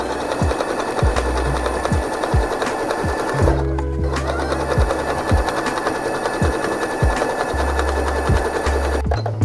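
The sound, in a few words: sewing machine overcasting jeans hem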